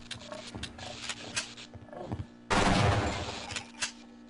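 Shotgun fire in Half-Life: Opposing Force: after scattered light clicks and thuds, one loud, close blast with a roaring tail that fades over about a second.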